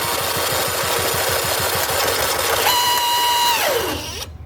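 A John Deere CV13S small engine cranks on the starter without catching, a fast steady chugging rhythm for several seconds with a whine that rises and then drops away as the key is released. No one talks.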